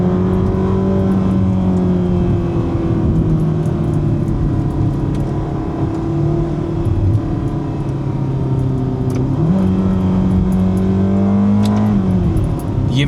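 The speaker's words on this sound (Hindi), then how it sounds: "ये मैं आपको फर्स्ट गियर की आवाज़ भी सुना रहा था" Ferrari engine from a 2026 model driven in Portugal, pulling in first gear with a loud, sustained mid-pitched drone that climbs and drops with a shift and rev change near the end, close and steady with no talk.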